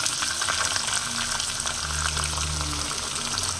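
Garlic sautéing in oil in a pan for a pepper-cumin kuzhambu, a steady close sizzle and crackle with a faint stirring scrape, no talking.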